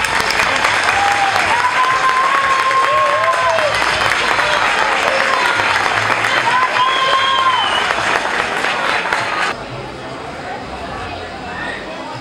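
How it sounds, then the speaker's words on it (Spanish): Loud, sustained applause from the audience at a Spanish town festival proclamation event for San Marcos, dense clapping heard close up with crowd noise and whistles or cheers mixed in, then easing slightly near the end. "Démosle un fuerte aplauso a Juan Marmo Galera"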